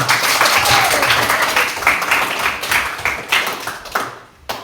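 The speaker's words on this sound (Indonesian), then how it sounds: "tepuk tangan semua" Classroom applause from a group of students, a dense, steady patter of hand claps close by that thins and fades toward the end.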